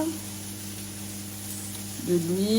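Oil sizzling in a frying pan with spices sprinkled in, a steady close hiss that swells slightly louder near the end, with a voice talking faintly over it.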